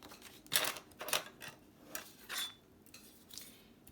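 Paper cut diagonally with scissors to make a corner pocket for a junk journal, giving a few crisp snipping strokes at an uneven pace, close and fairly quiet.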